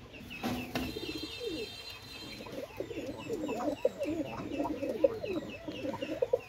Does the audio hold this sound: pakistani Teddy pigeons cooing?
yes